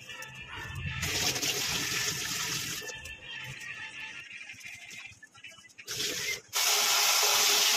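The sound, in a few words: water running while washing vegetables for curry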